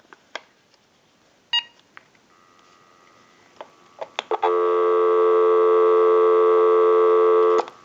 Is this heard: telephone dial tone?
yes